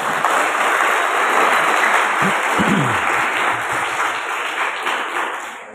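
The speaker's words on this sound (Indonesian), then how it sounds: "Kita harus beri aplaus yang meriah untuk kita semuanya." Audience applause inside a mosque during a mosque-cleaning opening event, loud, dense, sustained clapping from a large crowd filling the whole stretch, easing slightly toward the end.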